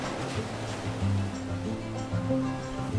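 Ocean waves wash onto a sandy beach in Tasmania, a steady rushing surf with low rumbling swells under faint background noise.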